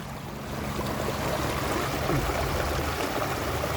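Water runs and splashes out of a gold classifier as material is sifted, a steady broadband rushing and trickling wash that holds throughout at an even, close level.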